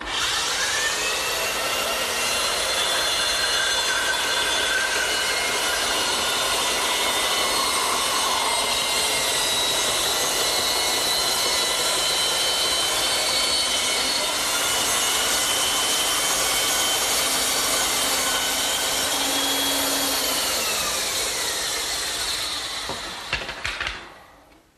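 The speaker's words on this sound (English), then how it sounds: "And then I'll turn the saw on, spin the blank, and I'll get a perfect circle every time." A power saw cuts a spinning wooden blank into a circle, giving a loud, close, sustained whine with shifting tonal bands for over twenty seconds before winding down at the end.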